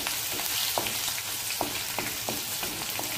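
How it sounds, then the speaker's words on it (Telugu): Cumin seeds and chopped green chillies frying in hot oil in a pan crackle and hiss steadily, with several soft stirring taps spaced out over the sizzle. "కొంచెం జీలకర్ర, కొంచెం పచ్చిమిర్చి ముక్కలు, కొంచెం వేయించిన తర్వాత"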